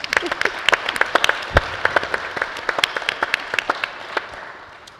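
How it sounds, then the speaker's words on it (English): A crowd applauding steadily, with many sharp claps blending into a dense patter that keeps going at an even level before fading slightly at the end. "Can we just give her one more round of applause?"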